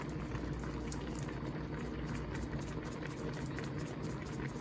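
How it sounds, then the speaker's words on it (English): A pot of callaloo bubbling on the boil, a steady, close, continuous simmer heard on its own with no talking. "soft and bubbling, pot bubbling"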